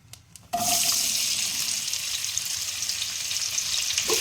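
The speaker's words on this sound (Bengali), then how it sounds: "আমি এখন তেলটা আমার গরম হয়ে গেছে আমি এখন পেঁয়াজটা দিয়ে দিচ্ছি" Onions drop into hot mustard oil for a mutton curry. After a quiet moment, a sudden loud sizzle erupts and holds as a steady, close hiss to the end.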